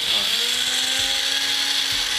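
An electric mixer grinder whirs loudly as it grinds soaked, salted rice into batter in a TV cooking-show kitchen, a steady high motor drone with a rising pitch and no pauses.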